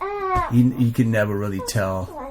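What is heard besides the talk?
baby moaning in the background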